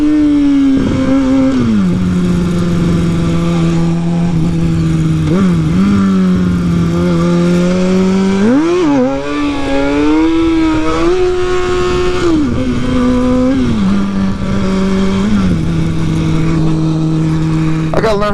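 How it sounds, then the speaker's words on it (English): A motorcycle engine revs continuously during street wheelie practice, its pitch rising and falling through repeated throttle blips and climbs, loud and close throughout. "I gotta learn how to do these street wheelies."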